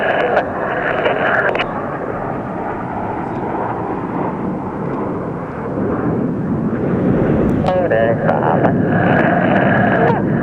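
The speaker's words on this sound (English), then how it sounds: "the aircraft slow down to approximately 150 kilometers an hour before then accelerating back to 600 kilometers an hour" An aerobatic jet display team roars overhead at an air show, slowing to about 150 km/h before accelerating back to 600 km/h, a loud sustained engine rumble with a commentator talking over it.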